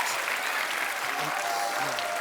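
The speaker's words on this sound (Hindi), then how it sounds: "जोरदार तालियां यार" Studio audience applause on a television comedy show set, a dense steady wash of clapping hands throughout, fairly loud and continuous with no gaps.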